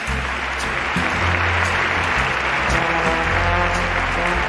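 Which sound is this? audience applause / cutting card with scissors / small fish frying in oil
audience applause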